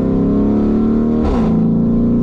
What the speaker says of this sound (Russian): Звук при переключении просто сумасшедший.